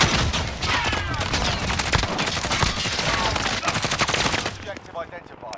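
Rapid automatic gunfire from Call of Duty: Modern Warfare, loud and near, with dense overlapping bursts running almost continuously before dropping away near the end.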